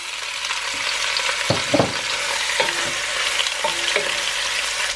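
Chicken pieces fry with ginger in a pot, giving a loud, continuous sizzle up close, with a few soft clunks partway through as the meat settles or is moved.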